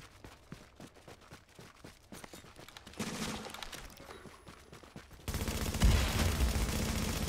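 Video game gunfire crackles in rapid bursts with a grenade explosion in a multiplayer match, the shots coming in dense volleys that build into a louder sustained roar of fire and blast noise.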